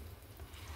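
Mustard seeds, cumin and hing sizzling in hot oil for cabbage dal, a soft, steady crackling fry, close but fairly quiet.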